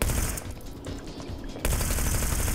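Rapid gunfire in the video game Hitman: Blood Money, a dense continuous burst of automatic shots that dips slightly midway then surges louder again, close and loud with no talk.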